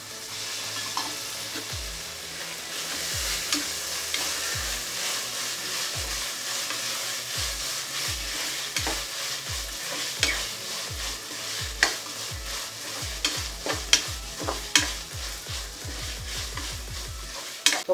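Green peas being stirred and fried in a pan for coconut milk pulao, a steady sizzle broken by repeated scraping stirs that quicken into a rapid run near the end, with no talking.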